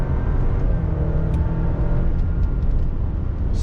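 Alfa Romeo Stelvio performance SUV accelerating out of a bend on a road drive, a steady, loud engine drone and road rumble heard from inside the cabin, with no talk.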